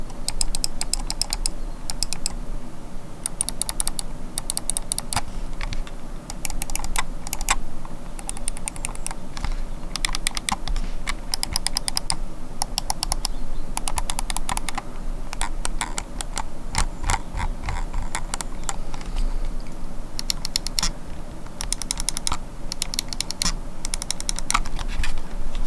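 Swiftpoint Z2 mouse buttons clicked repeatedly at close range, a long run of crisp, sharp clicks in quick irregular bursts and steadier patches, with no one speaking.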